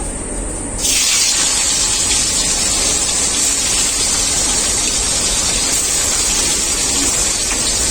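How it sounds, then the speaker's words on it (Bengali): Fish frying in hot mustard oil in a pan, a loud, steady broadband hiss that starts abruptly and holds unbroken to the end. "তেলটা আমার খুব ভালো করে গরম হয়ে গেছে। এখন আমি মাছগুলো ভেজে নেব।"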